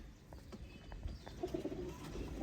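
Soft, low pigeon coos repeat a few times nearby, faint against a quiet background rumble.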